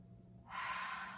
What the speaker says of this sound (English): Take one deep breath here.